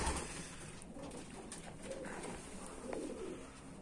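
Pigeons coo softly in a loft during autumn or winter, a few low, faint murmuring calls over quiet background rustle.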